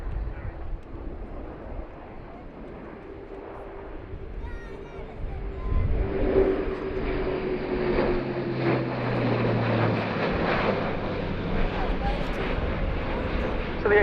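A German Air Force Airbus A400M turboprop transport flies past at an air show, its propeller drone building and growing louder partway through, while a commentator talks over it.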